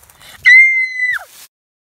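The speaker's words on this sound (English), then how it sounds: "it sounded like a scream" A scream in a Webkinz animated episode: a single loud, high, sustained shriek lasting under a second that breaks off abruptly, standing alone after a brief murmur.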